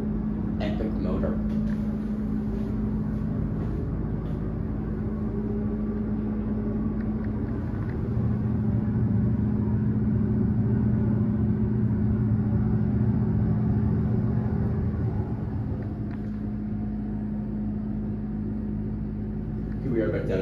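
An unidentified hydraulic elevator motor in a bank of elevators at Austin International Airport runs during a descent to the basement. It gives a low, steady, droning hum that holds at even loudness for about twenty seconds before easing off.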